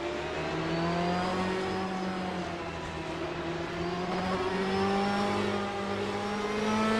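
A 1994 Ferrari F355 Challenge race car in a racing game holds a steady, loud engine whine, its pitch rising and dipping gently as it runs alone.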